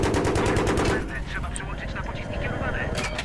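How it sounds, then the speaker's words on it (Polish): Rapid bursts of automatic gunfire in Battlefield 3 co-op crackle loudly at first, then continue as scattered shots and rumble beneath overlapping voices talking. "Tak to brzmi, jakby ktoś w nas strzelał"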